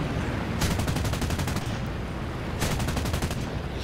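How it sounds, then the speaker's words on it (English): Italian aircraft machine guns firing in War Thunder, two loud rapid bursts of rattling gunfire, the first longer, the second shorter, over a steady roar of engine and wind. "not leading these Italian guns enough"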